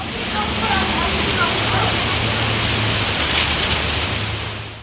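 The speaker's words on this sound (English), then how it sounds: "Water shooting into the air there in Pacific Beach." Water from a roadside pipe in Pacific Beach, struck by a driver, shoots into the air as a loud, steady rushing hiss, like a waterfall, that lasts the whole time with a low hum beneath.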